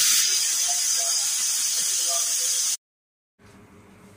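A pressure cooker steam whistle hisses loudly and steadily while radish and green moong cook, a sharp sustained jet that stops abruptly, followed after a short silence by a faint low hum.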